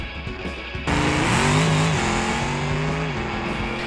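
A tuned Ibishu BX Diana drag car engine in the BeamNG driving game roars loudly and steadily after a sudden launch, its pitch shifting as it accelerates, with no talk over it.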